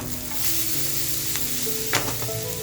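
Spring onion greens and capsicum sizzle and fry in a hot pan for a squid 65 dish, with a steady close crackle, scraping stirs, and a louder clatter as the mix is tossed.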